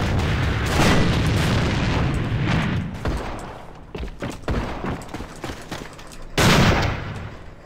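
A grenade blast and bursts of rifle fire fill a firefight in the shooter game AVA, heavy booms at the start and again near the end, with scattered sharp shots and thuds between.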